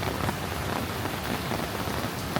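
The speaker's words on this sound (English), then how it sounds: "They weren't lying when they said it was going to rain." Steady, dense rain pours down in Singapore, a continuous even hiss of drops hitting surfaces, loud and close throughout with no voices.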